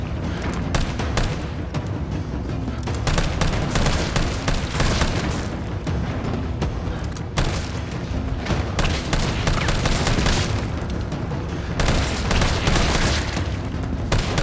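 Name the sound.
gunfire from Resident Evil 3 Remake video game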